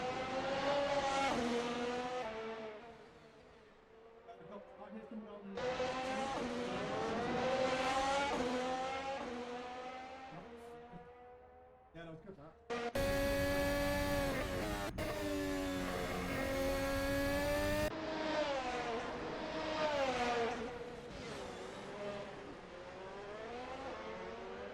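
Formula 1 race cars in a racing video game at Imola, with whining engines that rise and fall through gear changes as the cars pass close by, loud and sustained from one lap sequence to the next.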